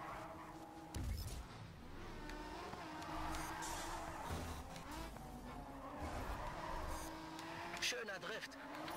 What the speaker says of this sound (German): Schöner Drift